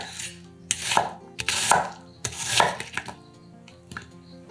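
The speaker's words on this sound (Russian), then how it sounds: "Одну луковицу нарезаем произвольными кусками." An onion being chopped into rough pieces on a board, with several close, crisp knife strokes in quick bursts, some scraping between them.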